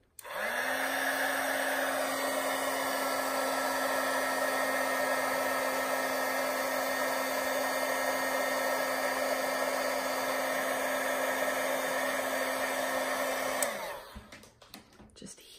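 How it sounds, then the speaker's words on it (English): A heat tool for card making blows hot air in a loud, steady whirring hum with a constant whine for about fourteen seconds, then cuts off abruptly, leaving brief quiet handling noise. "And get my heat tool."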